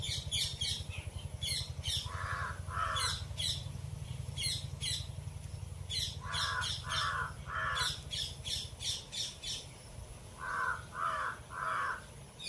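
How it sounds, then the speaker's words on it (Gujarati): A crow caws repeatedly outside a window, harsh grouped calls of two or three at a time rising over a steady wind rush, fairly close and clear. "જોર જોરથી એક કાગડો પણ બોલે છે"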